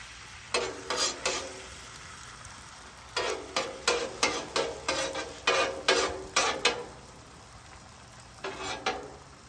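Eggs cooking on a Weber gas grill griddle insert, a metal spatula scraping and stirring in quick rhythmic bursts over a faint background sizzle.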